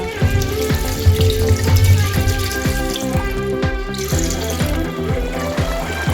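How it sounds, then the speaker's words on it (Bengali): A little water is poured into a pan of simmering chicken and potatoes, giving a steady, close splashing pour that lasts several seconds. "এর মধ্যে সামান্য একটু জল অ্যাড করব"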